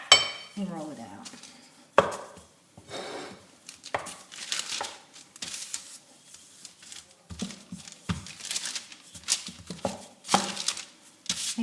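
Pie dough for a loquat fruit tart is rolled out on wax paper, giving close, irregular thumps, rustles and crinkles as the rolling pin presses and shifts across the paper.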